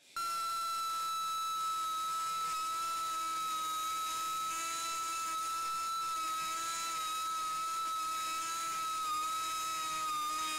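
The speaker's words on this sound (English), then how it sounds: "I'm just going to use the same die grinder tool and put a little groove down in there." High-pitched whine of a die grinder cutting an oil groove into a babbitt bearing during a bandsaw restoration, a steady loud tone holding for about ten seconds with slight wavering and no talk.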